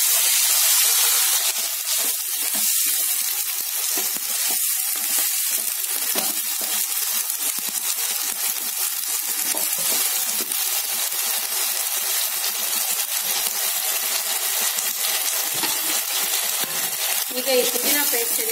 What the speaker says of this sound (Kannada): ಈಗ ತರಕಾರಿಗಳನ್ನೆಲ್ಲ ಹಾಕ್ತಾ ಇದ್ದೀನಿ. ಈರುಳ್ಳಿ, ಕ್ಯಾರೆಟ್ ಮತ್ತೆ ಬೀನ್ಸ್.